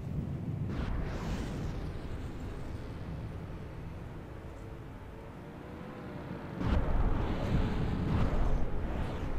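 Something blowing up in From the Depths, deep rumbling explosions with a sustained roar, a fresh loud blast near the end, no talk.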